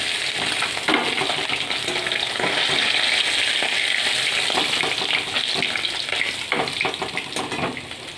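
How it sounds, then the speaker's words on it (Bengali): Pieces of catla fish frying in oil in a pan, a loud continuous sizzle close up, broken by clattering stirring and lifting sounds, with no voices. "মাছগুলো ভাজা হয়ে গেছে"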